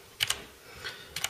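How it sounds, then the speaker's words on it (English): Keystrokes on a Gigabyte AiVia Osmium mechanical keyboard: two quick pairs of clicky presses, one at the start and one at the end, with a softer single tap between them. The keys are close and fairly quiet, and no one talks. "I'm going to type just a little something, a little blurb I wrote about this Gigabyte Osmium"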